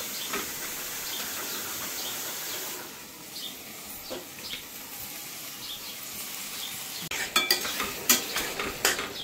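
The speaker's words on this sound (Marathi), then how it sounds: "आत्ता आपली मॅरिनेशन करून ठेवलेली कोलबी टाकू याच्यात" Marinated prawns frying in a pot for prawn biryani, with a steady sizzle and scraping stirs throughout, then louder clinks and spoon scrapes toward the end, close by and without talking.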